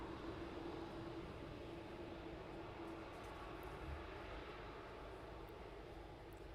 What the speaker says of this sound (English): now the TUI is now taxiing out